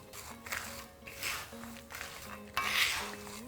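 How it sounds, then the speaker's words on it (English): Peanuts being stirred and dry-roasted with salt in a pot, giving repeated scraping and rattling of utensil against metal, close and steady with soft shuffling of the nuts between strokes. "Very, very important that you keep stirring this, otherwise it will burn fast."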